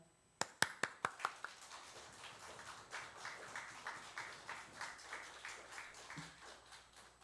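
A church congregation claps to welcome the pastor at a Sunday service, a few sharp isolated claps first, then steady warm applause filling the room at a moderate distance.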